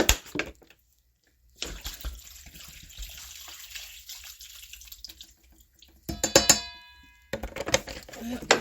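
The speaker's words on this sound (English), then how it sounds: "All I'm doing is adding some water." Water poured from a Great Value bag of vegetables being prepared for steaming, in a home kitchen: intermittent splashing bursts of pouring with brief pauses, fairly close and moderately loud.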